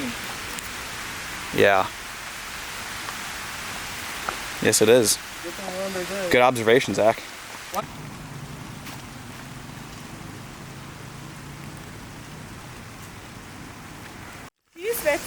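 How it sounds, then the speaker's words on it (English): Rain falls on a hiking trail in Switzerland as a steady, even hiss. People talk briefly over it in the first half, then the rain continues alone. "So That's the rain."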